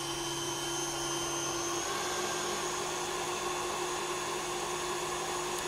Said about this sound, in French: je commence par le batteur électrique et je continue avec le fouet à main